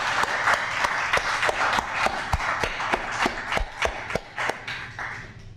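Audience at a library poetry reading applauding, scattered individual claps with a few loud close ones over a steady crowd patter.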